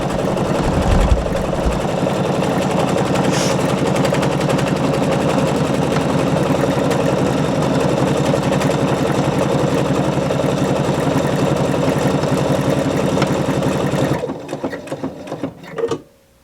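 A Pfaff sewing machine stitching a decorative butterfly pattern with tapering, a loud, close, continuous mechanical whir with rapid needle chatter that runs steadily for about fourteen seconds before slowing and stopping.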